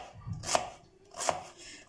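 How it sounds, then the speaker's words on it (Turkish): Two quick, crisp knife chops through carrots against a cutting board, spaced under a second apart, close and fairly loud with quiet between. "havuçları biraz şu şekilde hızlı hızlı doğrayacağım."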